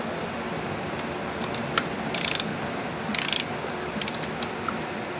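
A wrench ratchets on a Honda VFR800 primary gear drive bolt being tightened to torque, giving several short bursts of sharp metallic clicks close by. Steady workshop background noise runs underneath and no one speaks.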